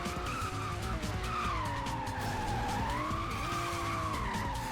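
A race car in the Hot Wheels World Race video game skids on the handbrake, giving a loud, continuous tire screech with a wavering pitch over steady engine roar, lasting throughout.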